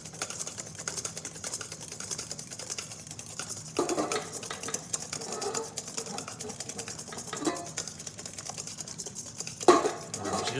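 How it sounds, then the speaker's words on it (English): Hollandaise sauce is whisked back and forth in a bowl as it thickens, a quiet continuous run of soft scraping, tapping strokes with a few louder clinks, fairly close and without talk. "Just kind of whisk back and forth."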